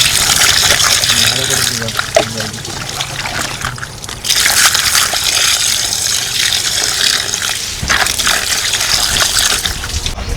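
Water gushes and sloshes loudly over a basket of cut fish pieces being washed, a close, continuous splashing stream with brief dips, while voices talk under it.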